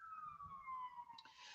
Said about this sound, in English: nope, there's an ambulance